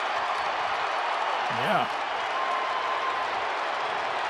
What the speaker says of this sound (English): He's getting quite a round of applause.